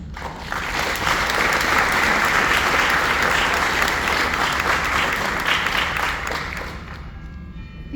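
Sustained audience applause for a panel of speakers, a dense steady wash of many hands clapping at full strength for several seconds before tapering slightly at the end.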